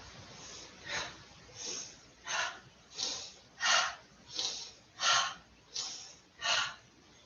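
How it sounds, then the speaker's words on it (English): Nine sharp exhaled breaths through the nose or mouth during a yoga session with weights, evenly spaced about every 0.7 seconds, close and moderately loud in a quiet room. "you can breathe, you can exhale in each one"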